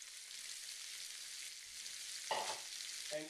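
Bacon, capsicum, carrot and onion frying in a pan for borscht, a soft steady sizzle with a brief stir of the vegetables near the end.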